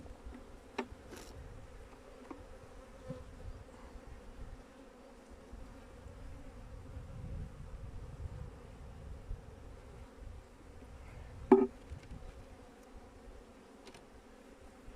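Faint, steady buzzing of many honeybees in a hive, low and continuous, with a few brief louder bumps and clicks near the microphone.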